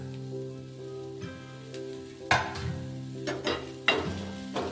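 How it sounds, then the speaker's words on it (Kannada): Chopped chillies fry in a pan with a soft, steady sizzle, broken by a few sharper scraping stirs of a spoon, set against a low sustained background tone. "ಸ್ವಲ್ಪ ಫ್ರೈ ಮಾಡ್ಕೊಳ್ಳಿ."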